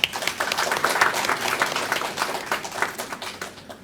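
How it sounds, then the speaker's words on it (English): Audience applauding the Vice Chancellor at a Pondicherry University School of Law event, a brief burst of dense, steady hand clapping that fades over a few seconds. "please big round of applause for that"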